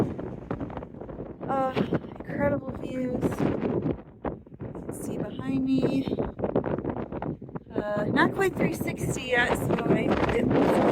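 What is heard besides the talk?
strong wind near Baldpate East Peak summit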